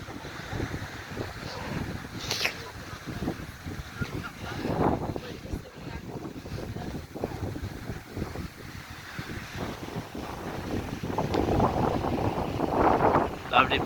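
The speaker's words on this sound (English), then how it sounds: "You see this and you can tell it's windy." Wind gusts across Corralejo beach on Fuerteventura, buffeting the microphone in uneven rushes that swell louder toward the end, with surf washing underneath.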